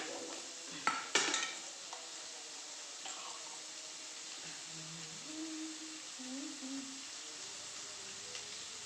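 Onions sauté with salt in a pan for an egg curry, giving a faint, soft sizzle. A couple of sharp utensil clinks near the start are followed by quieter stirring sounds.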